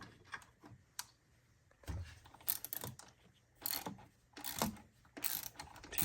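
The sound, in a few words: wrench with Torx T30 bit backing out screws on Toyota Supra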